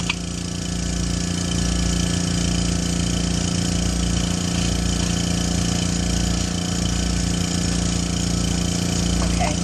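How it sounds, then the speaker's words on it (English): A lab vacuum pump runs for filtration with a loud, steady mechanical hum and a low, regular pulsing throb that continues unbroken throughout. "I'm going to turn on the pump so the filter sticks"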